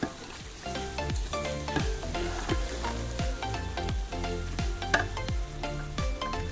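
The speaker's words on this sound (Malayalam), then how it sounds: "എല്ലാവിടെയും ഒന്ന് ചേർത്ത് ഇളക്കിയിട്ട് ഇതിൻ്റെ ഒരു പച്ചമണം മാറുന്നവരെ നന്നായി ഒന്ന് വഴറ്റിയെടുക്കണം" Biryani masala sautéed in a pan, a constant sizzle under rapid, regular stirring strokes and clinks of a spoon against metal, near and fairly loud, no voices.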